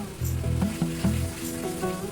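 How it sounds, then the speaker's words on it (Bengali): A spice and curd mixture seasoned with salt and a little sugar fries in a wok for a Bengali doi mach fish curry, giving a steady close sizzle with soft stirring scrapes throughout. "এই কড়াইতে মিশ্রণটিকে খুব ভালো করে ভাজা ভাজা করে নিচ্ছি।"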